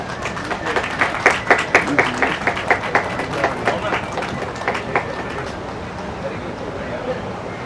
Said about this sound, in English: A round of applause for Mona ma'am